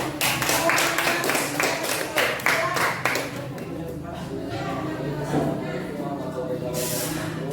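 A group claps in a classroom discussion session, several sharp distinct claps for about three seconds at moderate volume, then fading into background voices and room noise.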